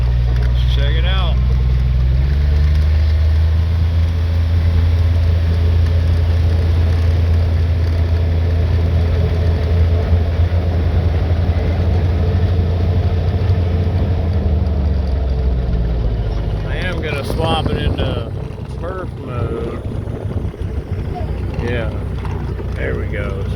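Polaris Ranger Diesel 1000 Crew UTV driving onto a road, a loud, steady diesel drone with rattling drivetrain noise that eases off near the end, a voice speaking over it.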